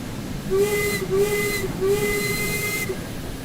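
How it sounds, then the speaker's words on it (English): Steam locomotive whistle in Train Sim World 3 on Southeastern Highspeed, sounding as three loud sustained blasts with a tonal, harmonic wail over a steady hiss and rumble of the running train. "Give a good blow on the whistle."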